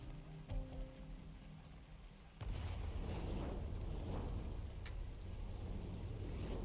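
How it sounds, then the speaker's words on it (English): A sudden deep boom at about two and a half seconds gives way to a sustained loud rumbling roar, like a blast and its aftermath, from the Arknights video game, following a quieter stretch with faint tones. "the sound of an explosion suddenly tore through the air from not too far away"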